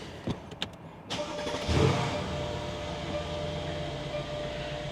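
A Mercedes S63 AMG, just repaired after a faulty ignition coil, cranks with a few short clicks, then catches and settles into a steady, close idle with a low rumble that carries on alone to the end.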